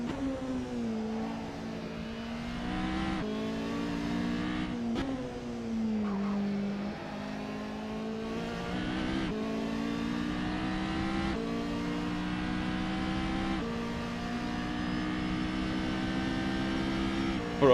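A Ferrari race car engine roars in a racing video game, a loud continuous buzzing drone that climbs in pitch through each gear and drops sharply at every shift, repeating through several upshifts.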